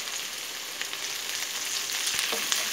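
Onion, green chilli, ginger, garlic and coconut sizzle as they are sautéed in a pan for mint chutney, a steady close frying hiss with faint stirring and no talk.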